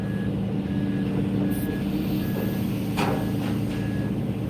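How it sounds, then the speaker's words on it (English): A truck's backup alarm beeps in a steady, evenly spaced series while the truck reverses during a trackhoe cleaning job, under a loud, rumbling diesel engine with brief hisses. "I can't stand a backup alarm."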